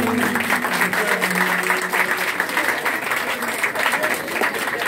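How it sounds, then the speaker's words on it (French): An audience claps after a school debate by ninth-grade students, steady, full applause at close range that holds strong for several seconds. "Maximum d'applaudissements."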